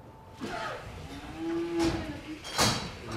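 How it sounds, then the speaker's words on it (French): Cows on a farm moo a few times at moderate distance, with long low calls and no talk over them. "ma passion, c'est mes bêtes, c'est mes vaches"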